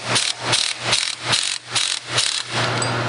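A puller is cranked by hand in rhythmic ratcheting strokes to draw a differential flange off the final drive, about six clicking pulses heard up close with no talking.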